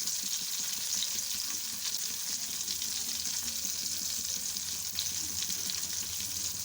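Tomatoes with crushed garlic and cumin sizzle and fry steadily in a pan for a Telugu raw tamarind pulusu, a constant bright crackle with no one talking.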